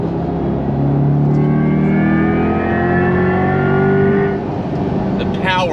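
A 2024 Chevrolet Corvette E-Ray's V8 engine rises in a loud, sustained rev as the car accelerates, the drone climbing in pitch for several seconds before easing off.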